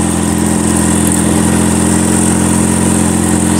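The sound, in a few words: motorbike engine climbing a steep hill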